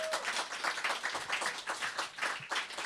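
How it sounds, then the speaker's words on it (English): An audience applauds at a poetry reading, a brief patter of hand clapping at moderate distance, uneven and fairly light over a few seconds. "you're going to expect some applause"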